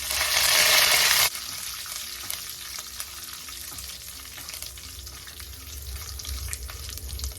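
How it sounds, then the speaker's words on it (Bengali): Curry leaves dropped into hot oil for an upma tempering burst into a loud, bright sizzle for about a second, then settle into a softer steady frying crackle with occasional stirring. "এখন এখানে দিচ্ছি ফোড়নের জন্য মেইন ইনগ্রিডিয়েন্ট, এটা হচ্ছে কারি পাতা।"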